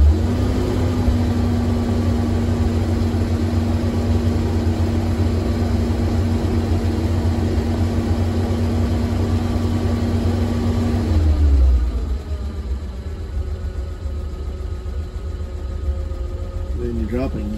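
A Slant Six engine idles with its oil light on and weak oil pressure. Its steady mechanical hum runs evenly, then drops to a lower, quieter drone about two-thirds of the way through.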